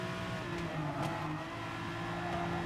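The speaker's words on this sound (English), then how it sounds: "you can hear that McLaren screaming" A McLaren F1 racing in GT Sport screams with a sustained, high-revving engine tone, fairly faint and steady, with a few brief bursts rising over the mechanical whine and no talk over it.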